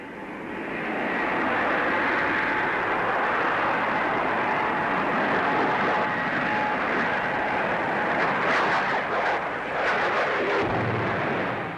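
A 1949 de Havilland DH-113 jet night fighter flies past at an air show, giving a loud sustained roar that swells and holds for several seconds with some crackling near the end.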